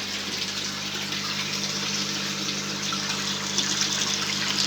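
Garden pond pumps run with a low steady hum while water flows and splashes continuously, close and fairly even in level, with no voices.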